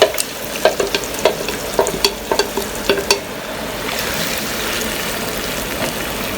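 Mutton liver (kaleji) frying in a pan with ginger garlic paste, a steady close sizzle broken by a run of sharp spoon scrapes and clinks in the first half, then a smoother continuous frying hiss with no talking.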